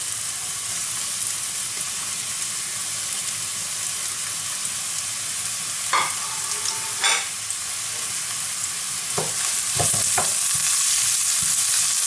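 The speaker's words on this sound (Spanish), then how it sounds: "Para hacer el sofrito. Yo voy a poner la cebolla, los pimientos. Todo lo voy a poner, el ajo," Steady sizzling of onion, peppers and garlic frying as a sofrito in a pan, a constant hiss throughout with a few clinks and stirring scrapes toward the end, close and without speech.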